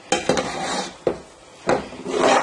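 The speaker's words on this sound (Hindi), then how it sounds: "इस तरह चम्मच चलाते रहना है।" A spoon stirring thick semolina halwa in a metal pot, with a few scraping, clattering strokes coming in bursts and short pauses between them, close and fairly loud, with no talking.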